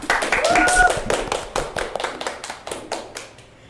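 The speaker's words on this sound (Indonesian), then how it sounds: "Tepuk tangan." An audience at an Indonesian talk show claps its hands in a quick burst of sharp, fairly loud claps that gradually thin out and fade, with a brief voice sounding over the first second.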